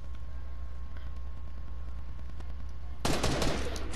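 Fortnite Battle Royale gunfire, with a sudden loud burst of rapid shots at the end after a steady background hum of game ambience.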